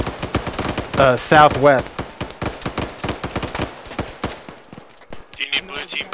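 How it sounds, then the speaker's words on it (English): Heavy automatic gunfire from a Black Hawk Down video game: dense, rapid bursts of shots hammering throughout, loud and close, with radio-style voices talking over the firing. "Command and Red are taking heavy fire"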